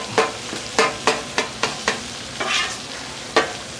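Sausage being broken up with a spatula on a hot Blackstone griddle: a steady sizzle beneath a run of sharp, evenly spaced scraping taps, close and fairly loud, with no talking.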